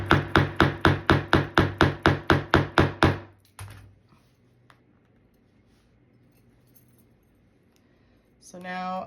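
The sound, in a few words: hammering a metal grommet into a corset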